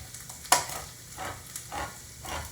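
Peppers and onions fry in a pan for sweet and sour chicken, a steady close sizzle broken by a sharp clack and several bursts of stirring scrapes, with no one talking.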